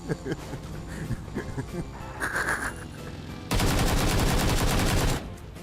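Automatic gunfire in PUBG, a dense sustained burst of rapid shots lasting well over a second, loud and close, preceded by scattered game noise with a voice talking.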